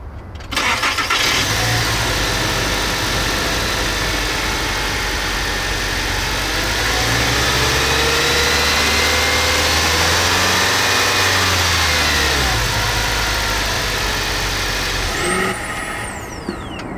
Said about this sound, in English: Speaking of sound, let's start it up.